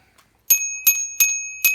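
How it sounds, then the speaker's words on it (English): The bell on a GoGoBest GF300 electric bike rings four times in quick succession, each bright metallic ding sharp and close with a short ringing decay, alone without talk. "I always ring the bell when I get back in"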